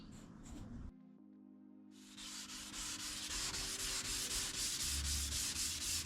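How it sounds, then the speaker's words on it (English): Hand sanding of a damaged Mercedes W126 bumper with 500-grit paper on a sponge pad, heard as a steady, close, rasping back-and-forth scrub that starts after a short pause and continues alone. "I'm sanding this all with 500 grit on a sponge pad"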